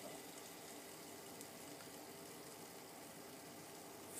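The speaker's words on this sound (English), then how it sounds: "at this setting, you can actually hear the pump reasonably well" An Alphacool D5 water-cooling pump runs at roughly 4600 RPM, giving a faint, steady whir with a soft hiss that holds even throughout, with no talking.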